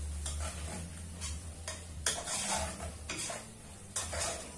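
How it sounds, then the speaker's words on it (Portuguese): A spoon scrapes and clinks against a pot while beef stroganoff with shoyu, Worcestershire sauce and mustard is stirred, repeated scraping strokes over a low steady hum, no voices. "Então, você vai mexer tudo."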